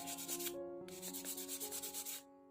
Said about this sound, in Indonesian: Kita amplas lebih halus untuk proses amplas terakhir